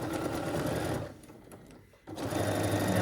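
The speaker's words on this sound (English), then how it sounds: "you can just sew off the edge like that" A sewing machine runs steadily while stitching fabric strips into a string quilt, pauses briefly in a quieter gap, then resumes with a close, loud, continuous motor whir.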